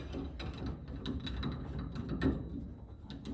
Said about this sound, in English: Once the inner shaft is pretty close, then we screw the outer shaft in.